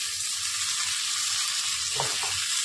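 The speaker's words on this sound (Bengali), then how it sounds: "এবার আমি ভেজে রাখা পটল আর আলুগুলো দিয়ে দিচ্ছি।" Fried pointed gourd (parwal) and potatoes tumble into a hot pan of spiced masala, setting off a loud, steady broadband sizzle with a brief stirring scrape near the end; no voices.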